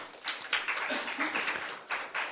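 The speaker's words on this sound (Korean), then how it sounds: "토론자분들을 큰 박수로 맞이해 주시기 바랍니다." Audience applause at a records management policy forum welcoming the panelists to the stage, a steady spread of clapping through the whole stretch with faint voices underneath.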